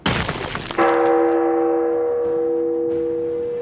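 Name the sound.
big church bell ringing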